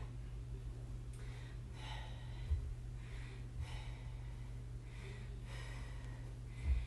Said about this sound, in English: Nice exhale.